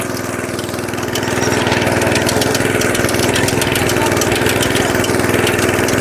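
Walk-behind tractor engine running steadily while digging potatoes, a loud, close, continuous mid-pitched chug with a fast regular pulse that swells slightly after the first second and holds constant.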